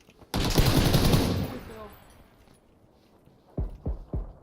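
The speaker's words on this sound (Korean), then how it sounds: "집안에서 쏘고 있어." A burst of sustained automatic gunfire echoes inside a house in the video game PUBG Battlegrounds, loud and close. A quiet pause follows, then several sharper single shots.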